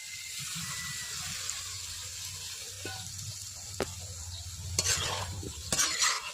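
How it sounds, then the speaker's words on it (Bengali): Soybean chunks with capsicum frying in a pan and being stirred, a soft steady sizzle with low scraping and a few sharp clinks of the spatula against the pan, no talking. "এর সঙ্গে একটু ফ্রাই করে ভালো ভাজা ভাজা করে নেব"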